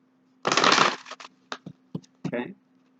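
Energy Oracle card deck being shuffled up close: a dense riffling burst, then several short, separate card slaps and flicks over a faint steady hum.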